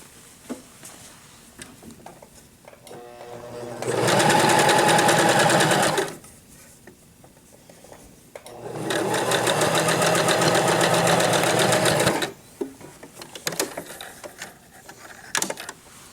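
A sewing machine stitches a duck-shaped pillow along a 3/8 seam line without backstitching, two loud sustained bursts of fast mechanical whirring separated by a quiet pause, with small handling clicks around them.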